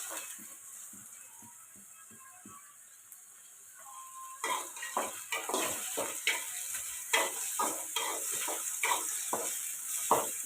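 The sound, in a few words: onions and green chillies frying in a pan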